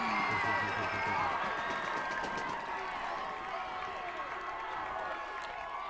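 A home crowd at a varsity high school football game cheers after a Raiders touchdown, a broad, steady roar with scattered clapping that fades slightly, heard somewhat distant with an announcer talking over it.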